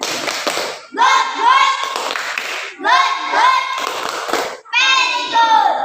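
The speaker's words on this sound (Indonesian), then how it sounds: "Kasih tepuk very good." A primary school class in an Indonesian classroom performs a 'tepuk very good' clap routine, with children's voices chanting together in three loud bursts, each separated by a brief pause.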